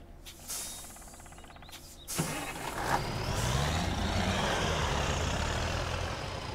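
In the SpinTires off-road driving game, an XPen 8x8 truck's engine cranks and fires after a short mechanical whine, settling into a loud, steady roaring idle that fills the rest of the clip.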